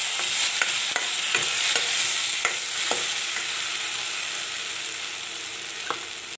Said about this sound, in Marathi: मग तेलामध्ये मोहरी टाकायची, करकडली पाहिजे.